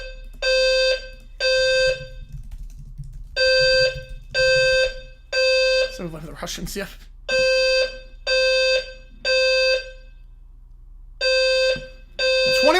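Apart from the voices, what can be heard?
building fire alarm ringing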